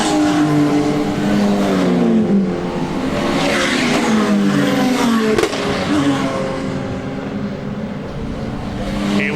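Britcar race cars in a season-closing sprint to the finish line, several engines roaring loudly together with overlapping rising and falling revs as they accelerate past, with a sharp burst mid-way.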